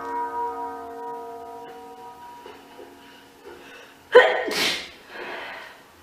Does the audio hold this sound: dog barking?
no